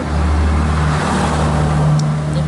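A car drives past nearby, a steady loud engine and road rumble holding for a couple of seconds.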